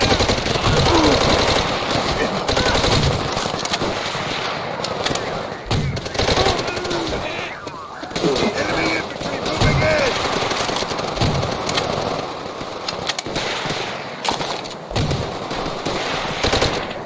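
Sustained machine gun fire from the Call of Duty: World at War video game, loud and near with continuous automatic bursts and gunfire across the whole stretch, with voices occasionally breaking through the battle noise.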